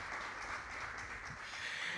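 Scattered applause and clapping from a crowd at an MTN Uganda launch event, steady and moderately faint, without a clear beat.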